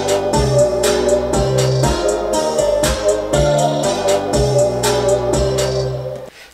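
A dense hip-hop beat with a haunting synth that shifts over heavy sub-bass and punchy kicks, a steady loud groove that thins out at the very end. No voices.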